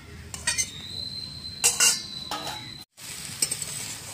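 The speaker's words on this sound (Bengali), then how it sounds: "ভালো করে মিশিয়ে নিয়ে আরেকটু সেদ্ধ হবে, যেহেতু ডাঁটাটা পরে দিলাম।" Mixed vegetables with prawns, jackfruit seeds and vegetable stalks are stirred in a pan, with spoon clinks and scrapes in short bursts over a faint low sizzle, then a brief pause before more stirring.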